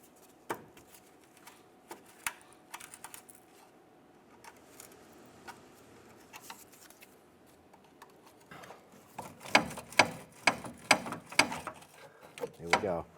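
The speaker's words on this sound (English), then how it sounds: "Go ahead and work that bolt out from the back side here." Metallic ratcheting and clinking from a bolt being worked out of the upper control arm on a 2015–2020 Cadillac Escalade, sparse light clicks at first, then a denser run of loud, rhythmic ratchet strokes near the end.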